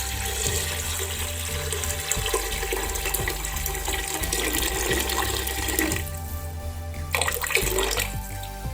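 Water pours steadily and close into a pressure cooker for prawn biryani, a continuous splashing rush at moderate volume.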